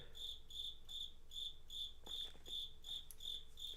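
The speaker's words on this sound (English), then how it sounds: "I have an extremely loud cricket in the bunker right now." A very loud cricket chirps indoors inside a bunker, giving evenly spaced shrill pulses about three times a second that carry on steadily with no talk over them.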